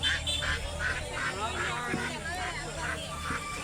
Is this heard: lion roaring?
no